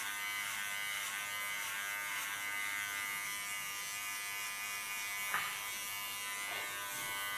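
An electric hair clipper cuts very thick hair during an ultra-short haircut, giving a steady close buzzing hum with a faint snag partway through.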